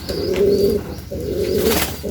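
Racing pigeons coo close by in two soft, throaty bursts separated by a brief pause.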